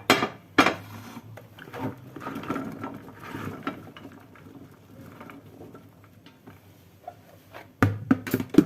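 Food being tipped into a glass baking dish while cooking cauliflower, with clattering, rattling knocks and scraping from dishes and utensils. A few sharp clanks come at the start and near the end, and no one speaks.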